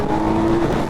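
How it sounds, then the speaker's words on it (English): A 2025 Kawasaki Z900 motorcycle engine revving under load, a loud, close, steady droning roar with a sustained tonal whine that holds for most of the brief moment. "It's got a pretty angry motor on this thing."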